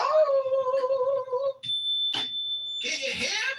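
A smoke detector alarm sounds a steady, piercing high beep that runs for over a second, cut with brief bursts of noise, while someone talks loudly before and after it in a cluttered indoor space.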